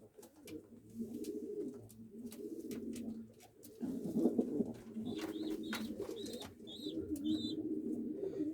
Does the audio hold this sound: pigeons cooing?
yes